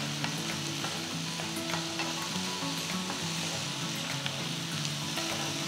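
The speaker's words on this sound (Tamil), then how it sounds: "தக்காளி போட்ட பிறகு ஒரு 5 மினிட்ஸ் தக்காளியை நல்லா வதக்கணும்." Chopped tomatoes sautéing in a pan for garlic kulambu, a steady dense sizzle and crackle of frying throughout with faint stirring, close and continuous with no talking.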